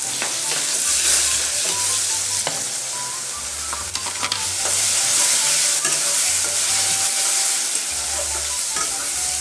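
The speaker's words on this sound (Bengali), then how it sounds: "পেঁয়াজগুলো ভেজে নেবো লাল করে" Onions frying in hot oil for a koi fish and taro curry, a loud, steady sizzle close by with intermittent stirring scrapes throughout.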